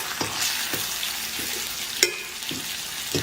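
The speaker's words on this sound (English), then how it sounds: "And I got to fry bologna twice." Bologna slices frying in a pan for fried bologna sandwiches, a continuous close sizzle with several clicks and scrapes of a utensil against the pan, no voices.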